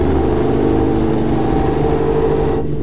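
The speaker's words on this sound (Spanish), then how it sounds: "Un poquito de freno motor." A heavy truck's engine brake in American Truck Simulator gives a loud, steady, low rumbling drone that holds evenly and then cuts off sharply at the end.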